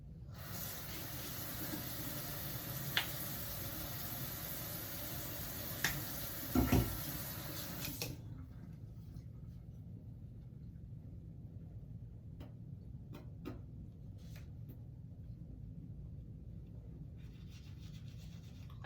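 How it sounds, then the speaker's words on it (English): A tap runs into a sink while someone brushes their teeth during a grooming routine. A steady, fairly loud hiss of running water lasts about eight seconds, then cuts off, leaving a quiet room with a few faint knocks. "Can you go ahead and brush your teeth for me?"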